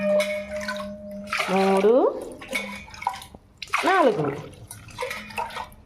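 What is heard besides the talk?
pouring glasses of water over soaked rice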